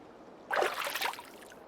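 Water pours into a bucket in the video game Ys IX: a single short, bright splash lasting under a second, close and alone against quiet.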